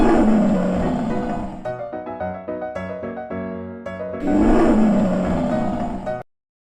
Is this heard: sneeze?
no